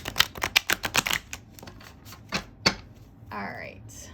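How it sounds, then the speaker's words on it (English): Tarot cards are shuffled in a quick burst of crisp riffling snaps, followed by a few scattered softer card sounds and a brief voice. "I just wanted to give a nice good shuffle."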